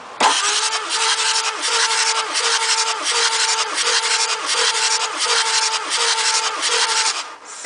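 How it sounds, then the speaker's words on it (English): A car engine cranking over for a cylinder compression test, a loud close starter whir with a regular pulsing rhythm from each compression stroke, lasting several seconds with no talking. "We're going to crank it over."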